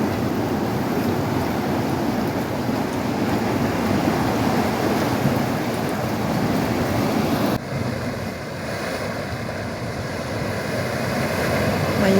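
Ocean waves wash against a rocky shore in a loud, continuous roar, mixed with wind buffeting the microphone, with a brief dip partway through.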